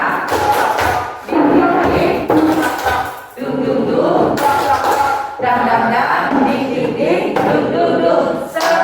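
A seated audience at a school teachers' gathering performs a rhythmic patterned clap in unison, loud thumping bursts with brief pauses between sections, crowd voices mixed in.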